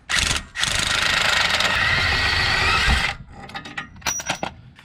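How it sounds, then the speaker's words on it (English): An 18mm sway bar link bolt on a Jeep Gladiator is removed with a loud burst of power-tool whirring lasting about three seconds, followed by a few light metallic clinks and handling noises. "Remove the 18mm bolt on our sway bar link."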